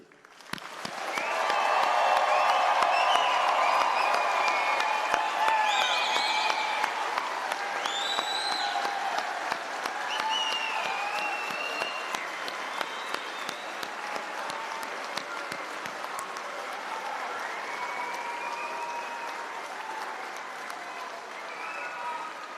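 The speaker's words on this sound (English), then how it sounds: "I invite our faculty, family, and friends to join me with a monstrous round of applause, congratulating our graduates of 2023" A large convocation audience of faculty, family and friends gives graduates a long, loud round of applause, dense clapping swelling early and then holding steady with some cheering throughout.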